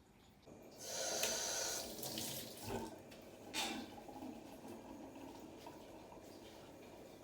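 Water runs from a kitchen tap to wash a glass vase, a faint steady splashing stream with a few louder gushes and clinks as the vase moves under the flow, no talking.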